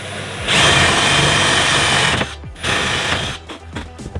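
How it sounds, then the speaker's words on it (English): A power drill bores large holes in a boat deck to prepare for fitting a Lewmar V700 windlass: loud, close, sustained grinding whine that runs for about two seconds, pauses briefly, resumes, then breaks into short bursts. "I'm gonna drill 2 big holes here to get my jigsaw blade in position"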